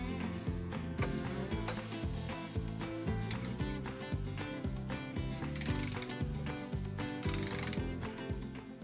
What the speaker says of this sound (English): And when the resistance is too high, you switch with a ratchet.